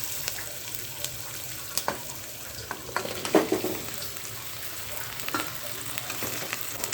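Tapioca stirred into sautéed onions in a frying pan, giving a soft, steady sizzle with irregular scraping and clinking stirs, one louder clatter midway, and no voices.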